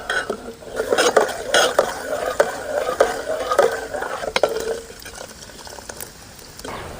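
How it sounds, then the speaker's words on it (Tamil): Ragi idiyappam cooking in a pot, with light bubbling and intermittent clinks and scrapes of utensils against the pot, moderately close and without talk. "ஒரு 5 நிமிஷம் நல்லா கொதித்து வேகட்டு"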